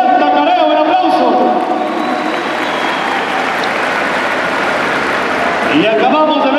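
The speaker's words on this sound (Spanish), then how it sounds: "¡Un aplauso!" Crowd at a rodeo bull-riding tournament claps and cheers for a bull rider, a dense, steady wash of applause lasting several seconds with an announcer's voice over it at the start and end.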